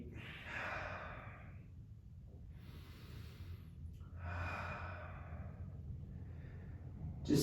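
Slow, deep breathing during a yoga pose on the floor: long, soft inhales and exhales in a calm rhythm, faint and near, with no talking.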